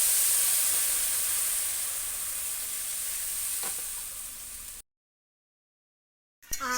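Water hits a pan of potatoes frying with ginger, green chili and cumin paste, a loud bright sizzle and hiss that eases slightly, then cuts out to silence before a brief burst returns.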